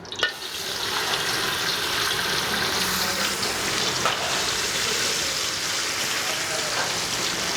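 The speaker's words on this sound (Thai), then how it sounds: "น้ำมันร้อนก่อนนะคะ ก็เทเศษเต้าหู้ลงไปค่ะ" Tofu pieces are tipped into hot oil and fry with a loud, steady sizzle and crackle, close and continuous from start to finish.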